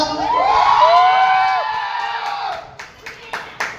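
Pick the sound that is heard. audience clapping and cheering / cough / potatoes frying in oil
audience clapping and cheering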